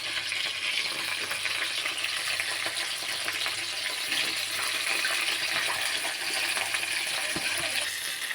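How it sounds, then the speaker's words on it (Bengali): Mourala fish paturi fries in a pan with a constant, loud hissing sizzle that stays level for several seconds, with a faint watery, splashy texture and no speech. "এবার এই পিঠ পিঠ করে ভেজে নেওয়ার জন্য আর এক পিঠ উল্টে নেওয়া হচ্ছে।"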